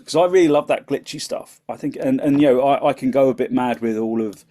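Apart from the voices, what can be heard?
No everyday noises stand out.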